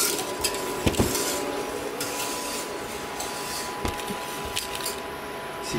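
A leaking saucepan handled while cooking a pistachio-raspberry financier recipe with sugar and raspberries, with scattered knocks and scrapes of pan and utensils over a steady background hiss.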